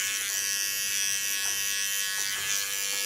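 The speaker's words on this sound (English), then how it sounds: "now I'm ready with my clipper and my comb" An electric hair clipper buzzes steadily and close while cutting hair into a short pixie style, a continuous bright motor drone with slight shifts as it moves through the hair, with no talking.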